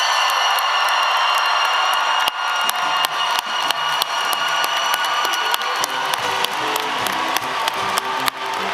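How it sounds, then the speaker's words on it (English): Crowd of families applauding and cheering the Fort Defiance High School class of 2024 at their graduation in the JMU Atlantic Union Bank Center, loud sustained clapping with whoops and shouts. "receive the congratulatory applause from all who have gathered"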